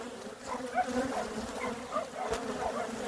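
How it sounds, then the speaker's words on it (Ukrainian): Angry honeybees buzz close by in a dense, agitated drone, with individual insects whining past the microphone at shifting pitches. "Це ж, мабуть, бджоли лишилися від старої від старої маточки"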